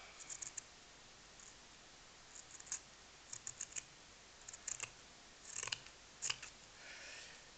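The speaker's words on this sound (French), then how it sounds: "on va prendre un ciseau et on va se mettre à découper" Scissors snipping burlap fabric for a handmade flower, faint and close, in sparse irregular cuts that cluster into quick runs of clicks near the end.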